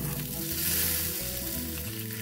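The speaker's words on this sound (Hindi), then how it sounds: "अब हम तड़के को चटनी में ऐड करेंगे" Hot oil tempering sizzles and crackles steadily as it is poured into tomato chutney, a close, continuous frying hiss with no talking.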